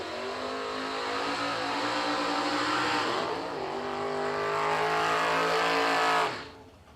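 Drag racing cars, a Dodge Dakota and a Buick Apollo, roar at full throttle in a loud sustained engine drone with rising pitch through gear changes, then cut off abruptly near the end.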